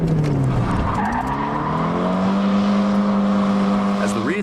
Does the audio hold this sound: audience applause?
no